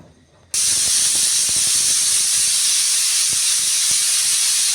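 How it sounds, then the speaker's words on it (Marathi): A pressure cooker holding matki rassa vents its whistle, starting abruptly after a short quiet moment into a loud, sustained rush of hissing steam that continues steadily to the end. "कुकरची एक शिटी काढून घेऊया"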